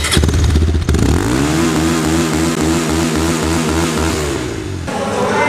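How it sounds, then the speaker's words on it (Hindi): Bajaj Pulsar 220F motorcycle, a 2021 BS6 model, idling loud and close with a steady throbbing engine note and a brief throttle blip near the start. "साथ में मैं आप लोगों को एक साउंड सुना देता हूँ इस बाइक की"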